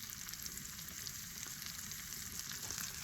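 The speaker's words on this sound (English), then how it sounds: "I'm frying up the fish." Fish frying in a pan set over an outdoor grill gives a steady, faint, continuous sizzle and crackle with no voices.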